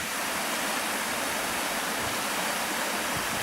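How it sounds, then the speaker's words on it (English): A small waterfall pours steadily, a dense, even rush of splashing water close by with no pauses, filling the whole moment. "I just cannot resist a little waterfall."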